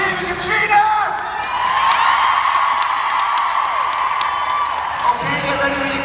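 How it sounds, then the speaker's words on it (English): A convention crowd cheers loudly in a large hall, with sustained whooping and yelling and scattered applause all the way through. "Another big cheer for Catriona!"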